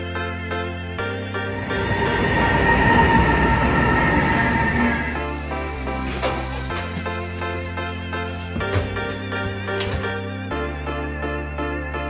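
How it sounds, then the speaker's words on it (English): Interior of a moving passenger train bound for Prague, a steady low rumble with a swelling rush of rolling noise in the middle, mixed with droning tonal hum throughout. "Finally on the train"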